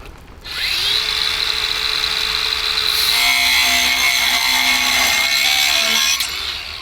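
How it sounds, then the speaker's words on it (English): A power tool cuts through a metal bracket on a mini bike build, a loud, steady high-pitched grinding whine that runs unbroken for several seconds before cutting off. "He's out in the rain cutting up that bracket"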